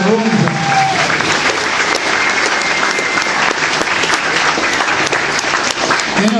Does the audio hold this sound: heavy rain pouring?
no